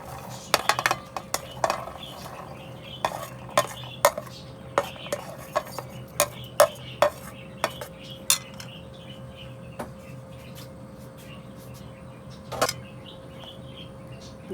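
Garlic cloves being mixed with half a cup of vinegar in a bowl for homemade garlic pickle, giving a series of sharp spoon-on-bowl clinks and scrapes, irregular and close, over a low steady background hum.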